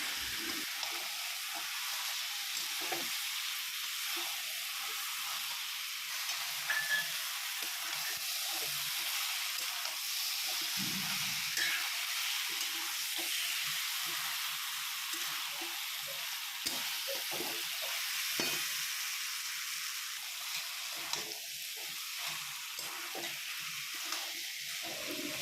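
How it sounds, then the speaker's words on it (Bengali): Pointed gourd, potato and fried prawns cook down in spices in a pan, giving a continuous, even sizzle and hiss close by, with faint occasional stirring and no voices. "আর ভেজে রাখা চিংড়ি মাছটাও আমি এর মধ্যে দিয়ে ভালোভাবে মশলার সাথে মিশিয়ে কিছুক্ষণ সময় ধরে আমি এটাকে কষিয়ে নেব।"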